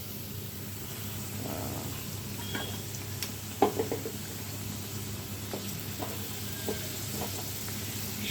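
Fish hitting a pan of fried spice paste, a low steady sizzle with a few clinks and stirring knocks, fairly quiet and without talk.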